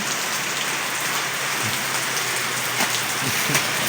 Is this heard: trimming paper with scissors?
no